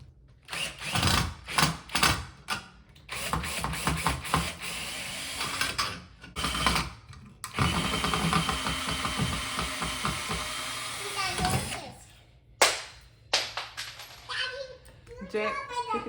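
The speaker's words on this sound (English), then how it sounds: "So I gotta take this old bracket down by taking out these two Phillips screws." Power drill backing Phillips screws out of an old chandelier mounting bracket, repeated whirring bursts of the motor, loud and close, broken by pauses, with a voice and other talk in the background.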